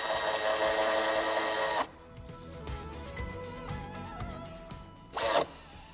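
A power tool tightening a screw while a tow hitch and electrical kit are fitted to a 2022 BMW 2 Series G42: a loud close whir that stops, a few quieter clicks and knocks, then a short second burst.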